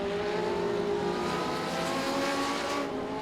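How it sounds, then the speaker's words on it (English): Legends race cars roar around Langley Speedway, engines droning and revving steadily, loud and continuous with a slight passing sweep. "These legend cars get around here in a hurry at Langley Speedway."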